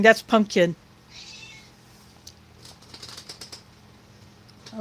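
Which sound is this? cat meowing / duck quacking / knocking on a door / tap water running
cat meowing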